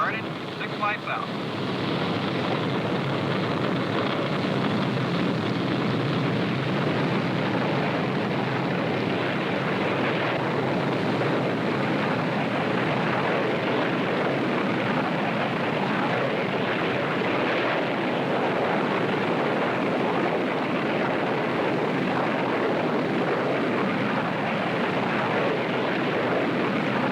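Boeing B-47 jet engines throttled up and holding steady at 80 percent, a loud, continuous broadband roar that fills the cabin without letup.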